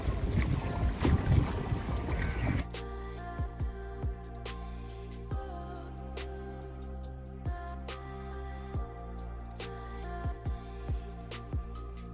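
A motorboat engine hums steadily while crossing a river estuary near Dublagadi sea beach, West Bengal, with rhythmic knocks and thumps repeating every second or so after a burst of wind and splashing at the start.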